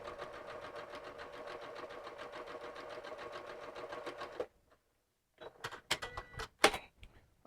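A sewing machine runs a 3/8 inch hem along a fabric edge with the needle in the middle position: a steady, close, rhythmic whir lasting about four seconds, then stopping, followed by a few sharp clicks and knocks.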